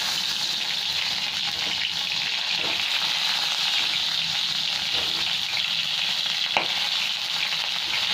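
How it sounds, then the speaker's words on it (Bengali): Pointed gourd pieces sizzle loudly in hot oil in a home kitchen, a steady broadband crackle lasting throughout with a few brief stirring clinks and scrapes. "তেলটা গরম হয়ে গেছে, আর পটলগুলো দিয়ে দিচ্ছি"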